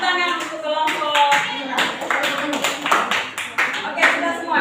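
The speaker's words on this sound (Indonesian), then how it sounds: "mari kita tepuk tangan untuk kelompok." A classroom of lower-secondary students claps for a student group after its presentation, with steady, dense hand claps close by that swell and fade in uneven bursts across the whole stretch.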